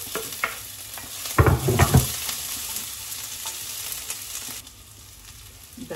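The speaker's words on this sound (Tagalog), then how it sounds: "Dahil nag-brown na yung sibuyas na ginisa natin pati yung garlic." Onion and garlic sauté in a hot pan for sardines with egg, a continuous close sizzle with a brief louder burst of stirring and scraping in the middle that then settles back to steady frying, with no voice.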